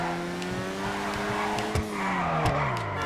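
An Ocelot Locust sports car in GTA Online is driven hard, its engine note climbing and falling while tires squeal through corners, loud and close with brief thumps, no talk.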